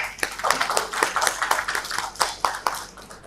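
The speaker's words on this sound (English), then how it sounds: "the organizers deserve a very big round of applause" An audience at a college lecture event on Sufism and Gandhian philosophy gives a round of applause for the organizers, close and fairly loud, with uneven bursts of clapping rising and falling throughout.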